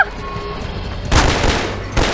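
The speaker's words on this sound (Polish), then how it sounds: "To co by za strzały? Oni strzelają gdzieś." Gunfire from a 2004 first-person shooter game, Half-Life 2: a faint tonal backdrop breaks into a loud burst of shots about halfway through, followed by a second sharp blast near the end.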